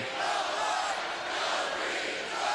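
College basketball crowd in an arena at a Michigan State versus Nebraska game, a steady roar of cheering voices filling the space, sustained and fairly distant with slight swells.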